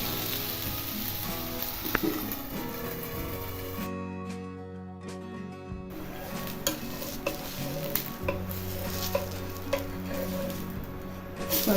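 Garlic roasts in a hot pan while spinach ghavne are prepared, a soft crackling sizzle with stirring scrapes and clinks, briefly dropping away midway before resuming.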